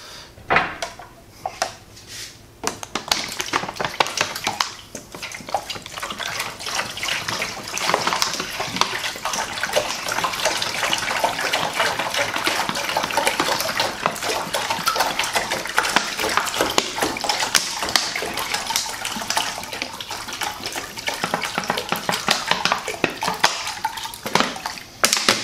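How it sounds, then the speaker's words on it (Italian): Water is poured into the tank of a small indoor hydroponic greenhouse after nutrient solution. A few handling clatters come first, then a loud, continuous splashing pour runs close by for about twenty seconds. "Inseriamo l'acqua"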